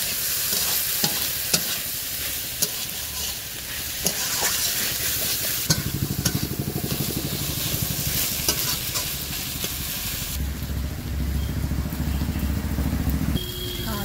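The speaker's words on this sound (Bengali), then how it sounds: "এবারে এই মশলাগুলো গরম করে দিয়ে শুধু মশলাগুলো কষাই করছি" Spices for a meat curry fry loudly in a hot pan, giving a steady close sizzle while a spoon scrapes and stirs them. The frying grows louder partway through, and no one speaks.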